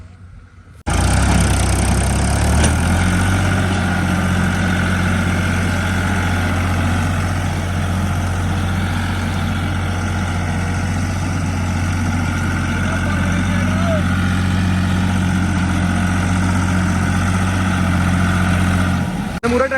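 A heavy tractor diesel engine idles nearby, a loud, steady low rumble that kicks in after a second and runs evenly throughout, with no voices.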